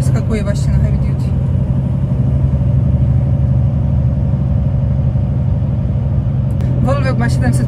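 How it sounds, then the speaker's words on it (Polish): Idling diesel engine of a Volvo FH16 750 truck, 16 litres, 750 hp, heavy-haul oversize transport rig: steady low rumble throughout, close and loud, with brief voices at the start and end. "Volvo ma 750 koni, to jest silnik model FH16 750, 16 litrów."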